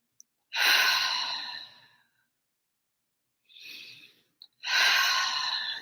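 Slow, deep breaths during a guided meditation: two long airy breaths near the mic, each lasting over a second, with a shorter, softer breath between them in an otherwise silent room.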